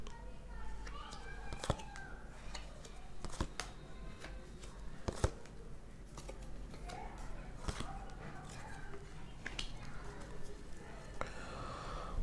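Tarot cards shuffled by hand, a run of soft riffling and brisk flicks with sharp card snaps scattered through, close and moderately quiet over a faint room hiss.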